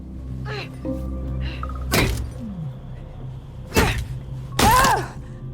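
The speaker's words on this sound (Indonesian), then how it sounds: "Joey terlihat tengah berusaha masuk dengan memecahkan kaca jendela" Heavy blows strike thick, sturdy window glass in repeated attempts to break it, giving several loud, sharp impacts separated by pauses, with smaller knocks and scraping between them.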